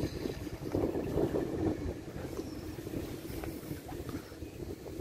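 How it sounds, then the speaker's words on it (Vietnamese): Strong wind buffets the microphone on a fishing boat out on the wide Tien River, a continuous roaring rumble with gusty swells and water wash beneath, steady and close throughout. "gió quá trời gió à"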